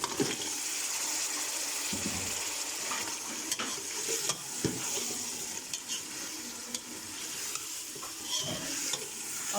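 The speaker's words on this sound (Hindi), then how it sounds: "अब मैं इसमें गोश्त डाल लेती हूँ।" Mutton pieces frying in a karahi with onion, ginger and garlic, stirred steadily: a constant close sizzle with scraping spoon strokes and occasional clatters throughout, no talking.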